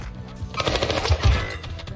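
Rapid automatic gunfire in the video game Caldera, a dense burst of shots lasting about a second, moderately loud against ambient game noise.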